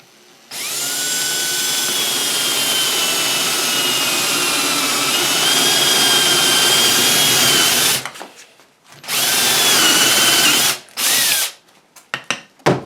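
Power drill boring a hole through the middle of a wooden board for a nest box, a loud steady whine running about seven seconds, then a pause and two shorter bursts with clatter near the end.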